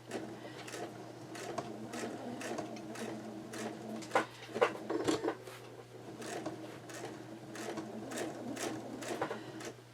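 A sewing machine stitching a quilt runs in a steady rapid rhythm with a constant motor hum, with a slight stutter in the middle as the pedal falters, close and moderately loud.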